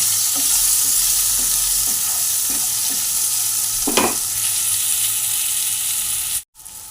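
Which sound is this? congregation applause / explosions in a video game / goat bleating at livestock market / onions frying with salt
onions frying with salt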